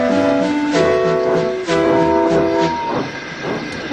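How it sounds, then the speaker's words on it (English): A steam locomotive puffs and wheezes with bursts of steam hissing from its cylinders, loud and close, with tonal whistle-like notes over rhythmic chuffs and no talking. "He wheezed as he puffed and steam hissed out of his cylinders."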